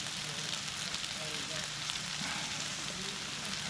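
Bacon sizzling while frying on a griddle for bacon cheeseburgers cooked in an RV, a steady, fairly quiet crackling hiss that runs throughout with no voices.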